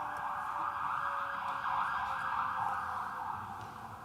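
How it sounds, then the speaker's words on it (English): Emergency vehicle sirens pass outside during a city zoning hearing in Scranton, a loud steady wailing tone that holds for several seconds and then begins to fade, with no talking over it. "Let the sirens pass."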